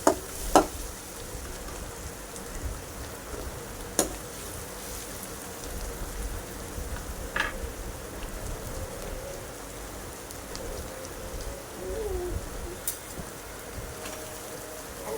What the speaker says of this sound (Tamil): இஞ்சி பேஸ்ட் விழுது போட்டு நல்லா வதக்கணும்.